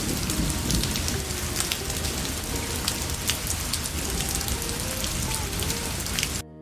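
Steady heavy rain pouring down and pattering on surfaces, a constant dense hiss with occasional louder drops, ending abruptly.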